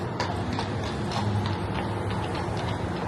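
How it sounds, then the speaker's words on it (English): Clydesdale horses pulling carriages at night along the San Antonio River clop their hooves in a steady, quick rhythm on pavement, close and continuous over a low urban hum. "The Clydesdale horses."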